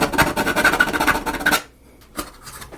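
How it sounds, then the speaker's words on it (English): A sanding file rasps back and forth on a Taj Mahal model in quick, close, rhythmic strokes, stops briefly, then gives one more short scrape. "Now let's get the sander file back on."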